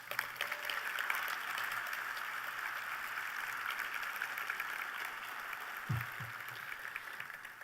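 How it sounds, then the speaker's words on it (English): Audience applause at a service recognition luncheon honoring award recipients, a steady faint wash of many hands clapping from a distance, with a few louder knocks near the end. "Please give yourselves a big round of applause."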